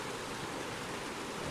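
Steady, dense rush of a waterfall in the video game Uncharted 2, a continuous broadband roar at even loudness with no voices.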